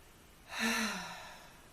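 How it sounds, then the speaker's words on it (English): One slow, deep breath drawn in and released as a soft, airy exhale, close and quiet, with no talking. "take a big deep breath into your whole self, just your whole being breathing at once"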